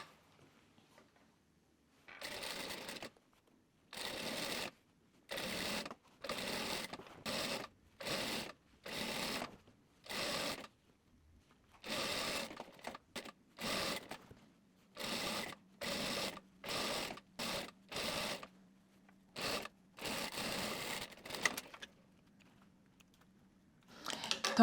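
A sewing machine stitches a double-folded hem on a dress in rapid rattling bursts, each a second or so long, separated by short quiet pauses. The sound is close and clear, and nobody speaks.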